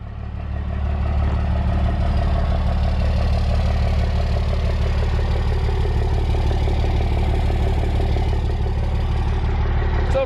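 A Cummins diesel engine in a Chevrolet Silverado idles steadily through a custom 5-inch exhaust with a resonator, a deep, throaty rumble, close and loud, holding an even pulse throughout with no talk.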